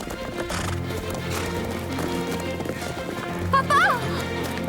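Horse hooves clip-clop steadily beneath music, and a horse whinnies briefly near the end.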